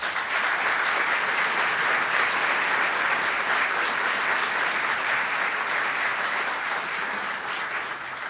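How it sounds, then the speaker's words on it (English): Audience applause at the 2015 New York State gubernatorial inauguration in Buffalo, a dense, steady wash of clapping from a large crowd that holds for the whole stretch and tapers slightly at the end. "Please give them all a round of applause."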